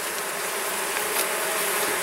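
Honey bees at an opened hive make a dense, continuous buzzing hum, close and steady, with no talking.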